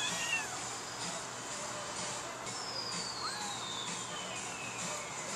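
A cat meows faintly a few times, with short separate calls over a quiet background hiss.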